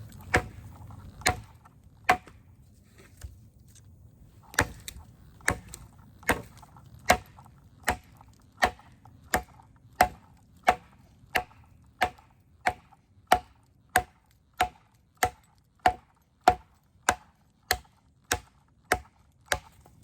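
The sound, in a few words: chopping wood with steel knife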